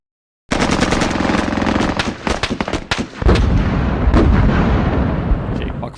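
Mortar fire and heavy gunfire in the military shooter Squad, a dense barrage of rapid close shots and booming impacts that rolls on for several seconds before fading.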